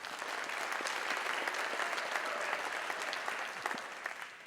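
A crowd at a county State of the County address breaks into warm applause for a newly introduced councilman, steady clapping from many hands with a few scattered louder claps.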